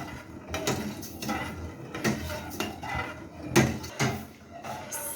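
A spoon stirs sabudana fruit salad in a bowl, making repeated clinks and scrapes against the dish in an uneven rhythm, close and moderately quiet without talk.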